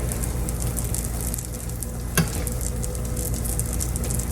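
Butter sizzles steadily in a skillet as the bottom half of a chicken fried steak sandwich bun toasts, a continuous close frying hiss with one small clink partway through.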